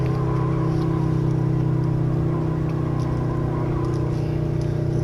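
A Toyota Himedic ambulance at wide open throttle through the S curves of Suzuka, its engine droning loud and steady with a constant strained whine and road roar, unbroken for the whole stretch.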